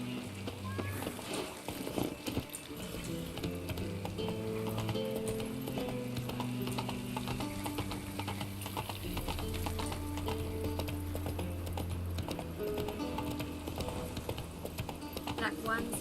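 Horse hooves clip-clop steadily at a gallop in The Witcher 3, a continuous rhythmic pounding under music and game voices, with a brief whinny.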